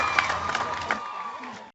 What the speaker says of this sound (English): round of applause for everyone who demoed today